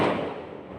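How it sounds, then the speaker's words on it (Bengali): Firecrackers burst outdoors at night during a Kali Puja celebration, a dense, continuous crackling rumble with no clear gaps, steady and fairly loud but slowly fading. "বাইরে বাজি ফাটছে"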